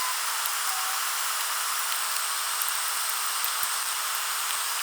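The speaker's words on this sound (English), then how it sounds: "Got four torque screws that need to come out." A steady, high-pitched whine of a power tool runs without pause while Torx screws are driven out of a Land Rover radio, with faint ticks riding on the constant drone.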